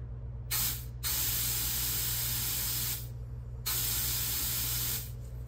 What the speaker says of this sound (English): test the patency of the fuel line coming from the fuel tank. And I'm going to do that with a little compressed air.